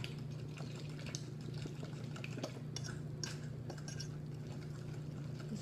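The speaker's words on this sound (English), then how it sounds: "We're going to go ahead and whisk this up" Muffin batter made with golden pea protein powder is being whisked in a bowl, giving faint, soft, irregular stirring and tapping sounds against a low background hum.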